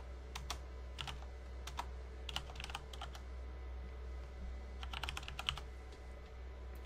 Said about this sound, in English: And then we're gonna type in our name